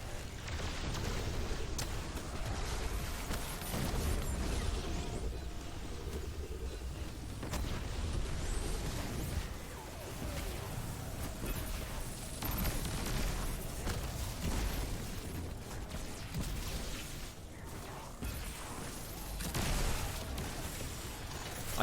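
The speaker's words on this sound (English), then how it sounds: "I have found that these skip grenades do actually do a lot of damage to champions." Explosions from skip grenades in Destiny 2 gameplay roll on through a dense, rumbling mix of game sound, with booms and bursts that blend into a continuous loud din and no clear separate blasts.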